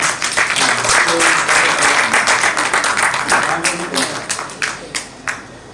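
An audience at a Delhi poetry gathering applauds a folk singer, loud, busy clapping that thins toward the end into scattered individual claps, with a voice speaking over it.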